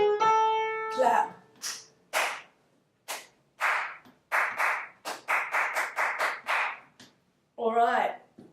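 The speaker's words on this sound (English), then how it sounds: "Let's clap that again just for practice." Hands clap out a practice rhythm: a run of sharp, close claps, some spaced apart and others in quick groups. A sung tone comes before them, and a short spoken word follows.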